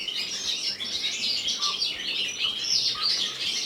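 Canaries chirp in a busy bird room while being hand washed, bright high twittering and calls overlapping continuously at moderate distance, no talk over them.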